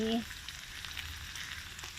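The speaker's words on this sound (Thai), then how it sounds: "ใส่หมูกรอบลงไปเลยค่ะปรุงเครื่องเลยแล้วค่ะน้ำมันหอย" Crispy pork and onion frying together in a hot pan, a steady close sizzle with a short burst of speech at the very start and faint stirring underneath.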